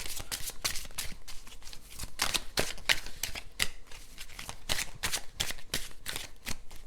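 A blue oracle card deck is shuffled by hand nearby in quick, crisp riffling bursts that repeat in an uneven rhythm, with no talking.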